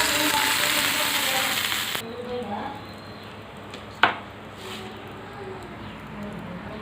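A tempering of urad dal, mustard seeds, cumin and curry leaves hitting hot oil: a loud, bright sizzle for the first two seconds, then a quieter crackle with a single clear knock of a utensil.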